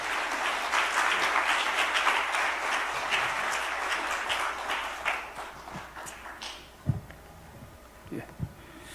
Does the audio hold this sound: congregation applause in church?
yes